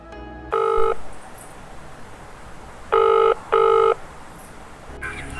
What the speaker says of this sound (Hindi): फोन लगाया जाए ठेकेदार के पास।